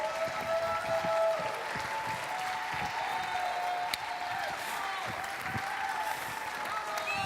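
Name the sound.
audience applause welcoming a pastor on stage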